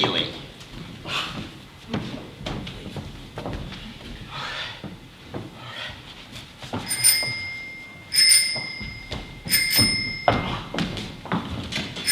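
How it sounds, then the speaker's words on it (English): A doorbell rings three times in clear, bright tones near the end, heard under an ongoing stage performance with actors talking and moving about. "doorbell, dear, not the telephone"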